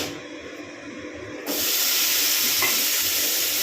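Tomatoes hit hot oil tempered with cumin, and a quiet low hiss jumps to a loud, steady, close sizzle halfway through that keeps going with no voices.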